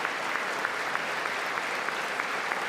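An audience applauding at a State of the Union address, a dense, even wash of clapping that holds steady throughout without cheers or voices standing out.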